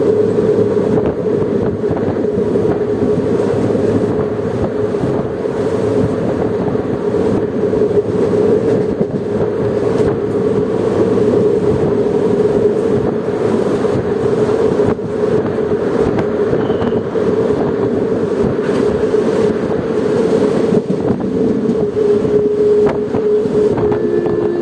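The Guruvayur Madurai Express rolls along steadily with a continuous loud rumble and droning hum, heard from inside the moving train with wind buffeting throughout and no voices.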